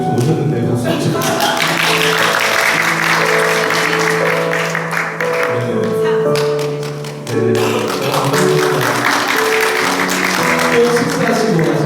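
Applause from a congregation at a Sunday church service: a loud, continuous wash of clapping that fills the room, blended with sustained music tones and dipping briefly before swelling again.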